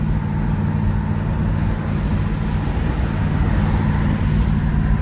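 A 1971 Oldsmobile Cutlass S with a two-barrel carburetor cruises at 60 to 65 mph, its engine a steady low drone under constant road and wind rumble heard from inside the car.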